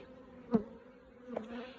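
Two brief buzzing passes of honey bees flying close by, one sharper burst then a softer drone, against a quiet background.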